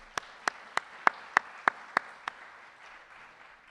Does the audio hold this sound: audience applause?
yes